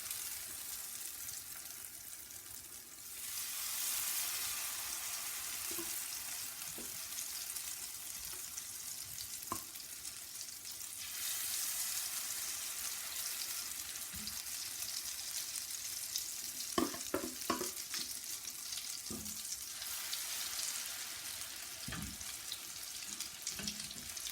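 Potato latkes sizzle steadily in hot oil in a pan for a long stretch, the frying hiss swelling and easing, with occasional soft clinks and scrapes of a utensil.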